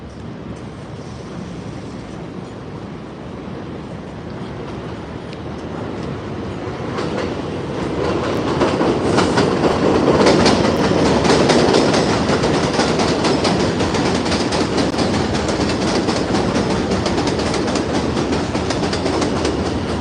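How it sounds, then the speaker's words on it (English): New York 2 subway train passes in the Bronx near 174th Street, a steady rumbling roar that swells louder midway and stays heavy, with rattling clatter and no talk. "I think this is the 2 train over here"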